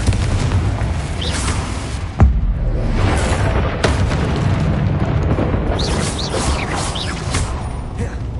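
Bombarda and Confringo spell explosions in Hogwarts Legacy, a run of heavy booms and whooshing blasts layered over continuous combat noise and rumble.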